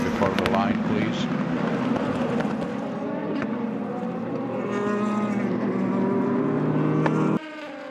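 Race cars at speed on the Silverstone circuit during a four-hour endurance race, with engines droning and shifting pitch as they pass, heard under continuous commentary.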